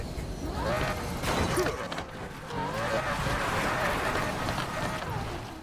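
Lamborghini Huracan drifting in the racing game Need for Speed Payback: a loud, sustained engine roar with shifting revs and squealing tires sliding through corners, continuous, with game effects layered over it.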